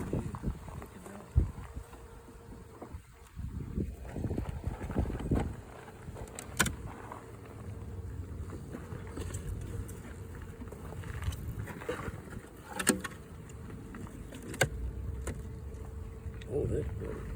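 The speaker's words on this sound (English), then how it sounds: "Substantially more bees." Honey bees buzzing around an opened hive during an inspection, a faint continuous drone with scattered louder passes and knocks, while people talk quietly nearby.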